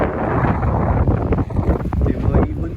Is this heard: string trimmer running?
no